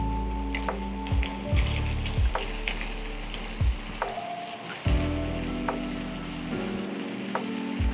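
Masoor dal frying with half-fried onions in a pan gives a bright close sizzle and crackle, broken by repeated spatula stirring and scraping strokes with occasional clinks and a low background hum.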